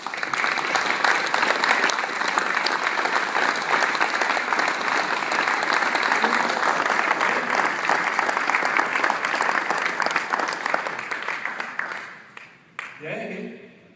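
Dense, sustained audience applause at an awards presentation honoring the NiteHawk team with the Award of Excellence in Power Sweeping at NPE, steady and loud for about twelve seconds before tapering off as a voice begins speaking.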